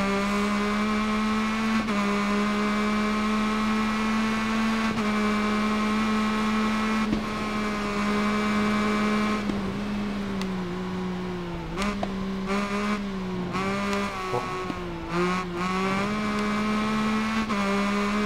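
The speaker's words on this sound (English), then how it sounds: "I don't like the engine sound much on this one either" Motorcycle engine in the racing video game Ride 3, a steady, droning mechanical hum that holds a constant pitch for a long stretch, then dips and recovers several times as the rider eases off and reapplies throttle.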